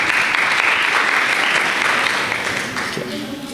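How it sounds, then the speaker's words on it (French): A crowd applauds steadily, clapping dense and sustained before gradually tapering off, with a voice briefly audible near the end. "Veuillez l'applaudir s'il vous plaît."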